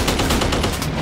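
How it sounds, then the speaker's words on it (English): Sustained rapid gunfire rattles against an aircraft in the WWII air-combat game Dogfight 1942, a loud, dense burst of repeated hits running throughout with no pauses. "we're getting shot right now"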